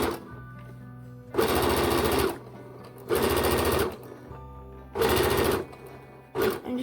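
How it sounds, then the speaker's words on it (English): A sewing machine stitching around the edge of an embroidered fabric heart for Valentine's Day whirs in three loud, rapid bursts of about a second each, separated by quieter pauses, with a brief fourth burst at the end. "basically go round on your sewing machine"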